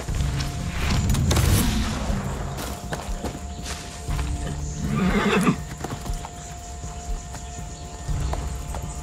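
Far Cry 6 video game horse: a loud whinny and a second neigh over rumbling, steady clip-clopping hooves, with heavy game background sound.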